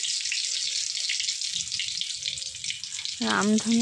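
Whole cumin seeds crackle and sizzle steadily in hot oil, joined by crushed ginger, in a home kitchen; near the end a voice briefly speaks over the frying.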